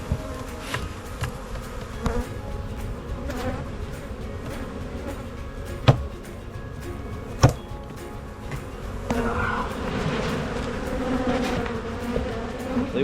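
A dense swarm of honey bees buzzes steadily and close during beekeeping work in a box, with a few sharp knocks partway through and the hum swelling louder near the end.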